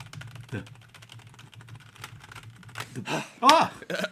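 Quick clicking keystrokes on a computer keyboard, fast and uneven, with a few louder hits near the end and voices chatting faintly underneath.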